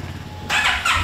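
A CFMOTO MT 700 adventure motorcycle engine, on a long ride from Buenos Aires to Lima, suddenly roars up out of quiet background noise. The rush is loud and close, with a second surge right after.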